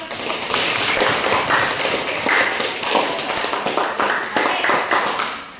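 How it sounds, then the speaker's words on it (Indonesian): Students in a classroom clap together in rapid, uneven applause that lasts several seconds at a steady level, with a voice speaking over the clapping. "tepuk tangan dulu dong"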